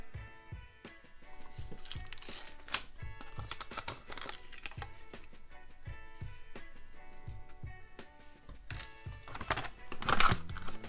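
Packaging for an Extremerate Nintendo Switch dock cover kit is opened with scattered crinkling, tearing and plastic clicks, faint and close, with a louder rustle near the end and no talk.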